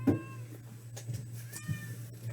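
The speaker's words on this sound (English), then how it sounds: "this crazy cat, he is gonna jump right into the middle of my keyboard" A pet cat meows a few times at close range in a quiet indoor room, the calls short and mid-pitched over a steady low electrical hum, with no talking.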